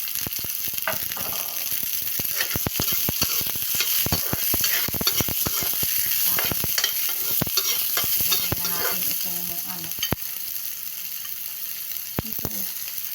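A milkfish head fries in a pan, giving a continuous close sizzling crackle broken by sharp spattering pops and clicks, with no voices.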